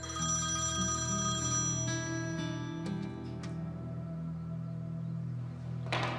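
A telephone rings with an incoming call, tonal repeated ringing over background music, gradually fading, with a sharp bright burst at the end.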